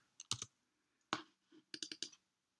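Keys on a computer keyboard are tapped in quick, faint clusters of sharp clicks, with short gaps between the bursts.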